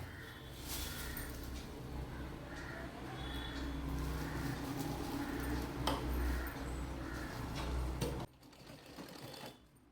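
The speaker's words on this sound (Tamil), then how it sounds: "இப்போது இந்த வாய் பகுதியை அப்படியே தையல் மிஷினில் வச்சு ஒரு தையல் போட்டுடுறேன்." A sewing machine stitches the opening of a herbal pillow with a rapid, steady mechanical whir and clatter, close and continuous, then stops abruptly near the end, leaving quiet room tone.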